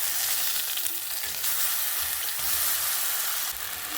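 Pointed gourd paste sizzles loudly in a pan with fried onions, a dense continuous hiss with a few stirring scrapes, close and with no voices.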